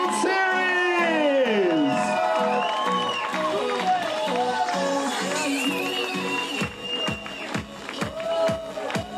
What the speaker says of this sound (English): Let's make one big round of applause of best teams in Saudi World